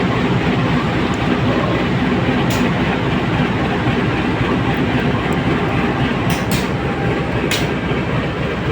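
Majapahit passenger train at Tegal station in Indonesia: a steady, loud rumble and rolling clatter of railcars with continuous low engine drone, close by and without talk.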